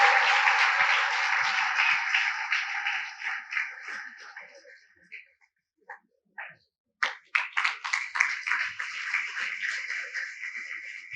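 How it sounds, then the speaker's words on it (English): An audience at a college lecture event in Hyderabad bursts into a loud, sustained round of applause that swells, then thins into scattered claps before picking up again with sharper, uneven clapping. "Give him a big round of applause, please"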